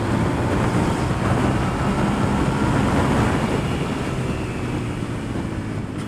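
Motorbike engine roaring steadily during an overtake on a wet ride, loud and continuous with heavy wind rush, close and unbroken throughout.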